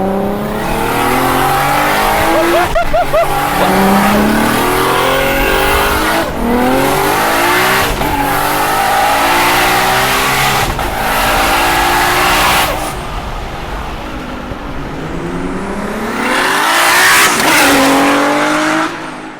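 An 800hp Nissan R34 GTR race car with an HKS RB28 engine and sequential gearbox accelerates hard on the street, its engine rising in pitch through several rapid upshifts, loud and close, with tires briefly squealing.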